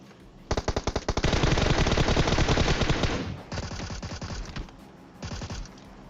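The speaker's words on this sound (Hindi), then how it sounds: "और कोई तो यहाँ पे MK14 चला रहा है।" MK14 rifle fire in PUBG Mobile, loud rapid bursts of shots in quick succession: a long sustained burst followed by two shorter ones, with no talking.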